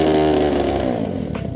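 A Lifan KP Mini 300 motorcycle with a four-valve ZS175FMN engine revs loudly and close by below full throttle. The buzzy tone holds steady, then eases slightly lower with a pulsing, uneven idle at the end.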